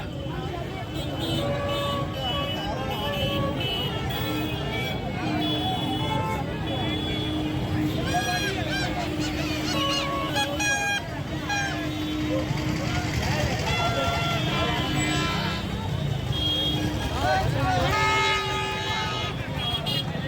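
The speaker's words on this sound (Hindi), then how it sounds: "देखिए पीछे ट्रैफिक देख लीजिए" Busy street traffic at a kite market with repeated car and bus horns honking over a steady engine rumble, while people talk nearby.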